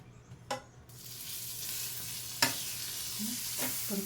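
A methi paratha fries in butter on a pan, a continuous sizzle rising after a quiet start, with a few scraping knocks from a spatula at scattered moments.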